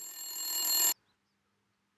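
A telephone rings with a bright electronic tone for about a second during a call to the police, then stops, leaving near silence except for a faint click at the end.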